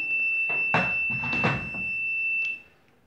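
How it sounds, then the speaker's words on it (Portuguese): A single steady high-pitched electronic beep from a multimeter continuity test on a microwave oven high-voltage fuse holds for about two and a half seconds, while a person speaks softly over it. "veja aí o bip, que vai dar igual ao outro"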